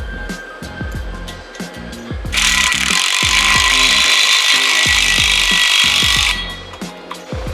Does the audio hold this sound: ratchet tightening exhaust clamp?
yes